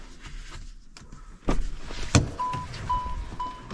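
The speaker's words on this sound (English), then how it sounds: "There's a warning chime." A 2020 Ford Explorer door-open warning chime sounds as three short, evenly spaced electronic tones after the door thuds open, fairly faint beneath car interior noise.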